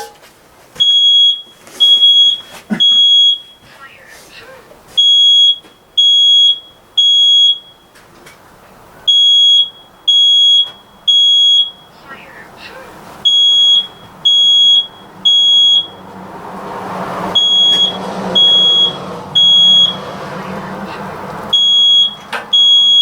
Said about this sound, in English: That is a fire alarm, sir.